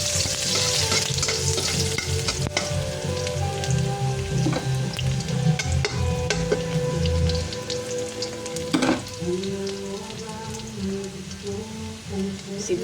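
Garlic sizzles and fries in hot oil in a pan alongside tofu, a continuous crackling hiss close by with spatula stirs and scrapes breaking through now and then.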